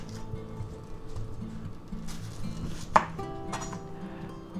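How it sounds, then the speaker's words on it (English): A knife trims the ends off a small onion, about three inches across, on a cutting board, with a few soft close chops and one sharper knock among quiet background sound. "Okay, let's cut the ends off."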